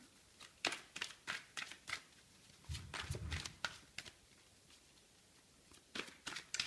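Oracle cards, the mirror deck, are shuffled by hand in a quiet room, giving soft, irregular riffles and flicks in quick bursts with a short pause midway.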